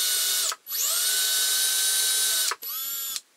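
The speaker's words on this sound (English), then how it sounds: "Get my drill" A power drill whirs at high speed in two bursts, the first long and steady, then a brief pause and a shorter second run, close and loud.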